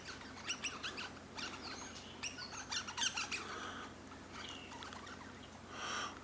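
Birds call at a feeding spot at Loch Sport, among them a magpie, giving bright chirps and squawks in scattered bursts over faint background noise. The calls sound moderately close, and no one speaks.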